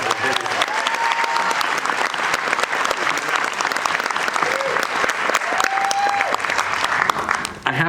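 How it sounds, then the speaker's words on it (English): An auditorium audience gives a round of applause, a loud, dense, steady clapping across the whole stretch with scattered whoops and cheers rising above it. "join me in giving a round of applause and thanks to our social media and photography team"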